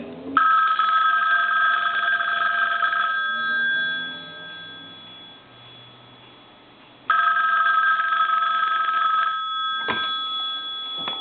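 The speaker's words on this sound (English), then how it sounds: "I'm going to go to the red telephone, and I'm going to ring it" A loud mechanical bell of a Western Electric rotary telephone rings in long bursts, pausing in between, then rings again with a sharp clatter at the end.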